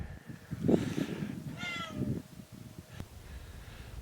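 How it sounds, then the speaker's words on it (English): A cat meows twice, fairly faint, with a drawn-out second cry and soft background noise. "What are you meowing for?"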